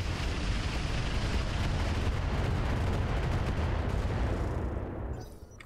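A BattleTech mech unloads a barrage of missiles in the strategy game Roguetech, a dense roaring rush of launches and blasts that holds steady for several seconds, then cuts off abruptly.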